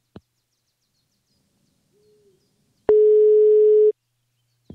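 A single telephone ringing tone sounds once, a steady electronic beep lasting about a second, loud and clear against near silence with a few faint clicks around it.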